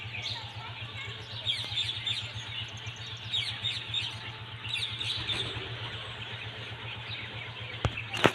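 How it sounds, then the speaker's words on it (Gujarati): Repeated bird chirps at a distance over a steady low engine-like hum, with a short sharp click near the end. "એક મસ્ત પક્ષી પણ છે."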